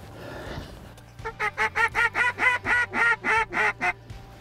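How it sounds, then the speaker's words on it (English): A series of about a dozen rhythmic nasal quacks and honks from ducks on a hunt, fairly close and evenly paced, after a brief rustle of wind. "Coming here, there's ducks."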